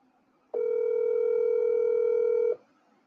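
A single steady telephone tone sounds for about two seconds on a call line, loud and clear, then cuts off into near silence.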